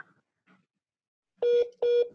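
Two loud, clean telephone dialing tones sound in quick succession after a faint earlier blip, each a steady beep about a quarter second long, with near silence around them.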